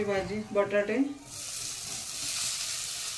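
Potatoes with turmeric and salt sauté in a pan for aloo bread patties; a brief spoken voice opens, then a steady close sizzle with soft stirring carries on alone.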